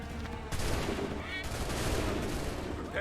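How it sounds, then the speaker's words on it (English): A dense volley of musket gunfire from soldiers in Assassin's Creed erupts as one loud rolling crash that then keeps rumbling, with shouted voices mixed into the battle. "Open fire."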